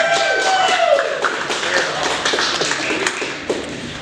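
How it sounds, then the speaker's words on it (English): An audience at a comedy show applauds a comedian in a sustained, dense wash of clapping, with a brief whistle near the start. "give me a huge round of applause for Dean Fontaine"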